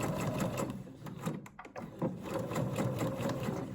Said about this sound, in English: So we're stitching with a normal stitch just until the marking of the vent.